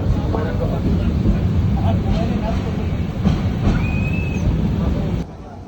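Inside a crowded passenger train running from Dhaka to Chittagong, a steady rumble and rail clatter fill the carriage, with faint voices in the background, until the noise drops off abruptly near the end.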